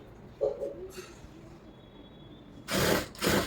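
A sewing machine runs in two short whirring bursts near the end while stitching a blouse lining, after a quiet stretch with a few faint handling noises.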